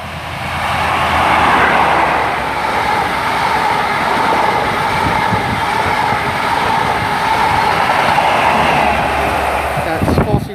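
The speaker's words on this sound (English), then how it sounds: "43155 and 43134. That's heading from Penzance to London Paddington." An InterCity 125 HST train travelling from Penzance to London Paddington roars past nearby, a loud continuous rumble of wheels and engines that stays steady for about ten seconds, with speech over it.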